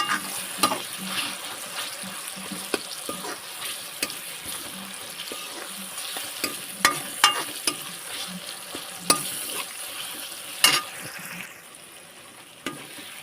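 Onion, green chili and tomato sautéing in a pan for a prawn dish, giving a steady close sizzle with scattered sharp clicks and scrapes of stirring, alone without voices.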